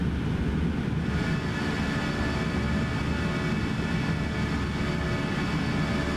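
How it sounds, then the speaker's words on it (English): An airliner takes off in X-Plane 11 on a flight out of Monaco, with a steady, loud, broadband jet engine roar holding at full power throughout and no one speaking. "now that we are taking off and the plane is basically as loud as it's going to get"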